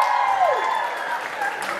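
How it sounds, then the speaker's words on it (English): A youth crowd at a live music event applauds and cheers loudly and continuously, with shouting voices mixed in and an amplified tone fading out under the noise. "Can we have all the under 18s making some noise?"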